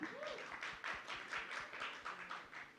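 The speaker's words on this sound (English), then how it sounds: "A big round of applause for him." An audience at a film release event claps in a quiet, uneven patter of taps and hand claps, fairly faint and distant, with no voices over it.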